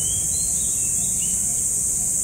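A steady, high, shrill chirring of crickets fills a park with many trees, constant and fairly loud, with no voices.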